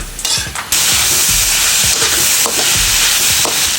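Beef for beef steak frying in its own rendered fat while being stirred: a loud, dense, continuous sizzle with a few muffled scrapes of the utensil underneath, close up, no voices.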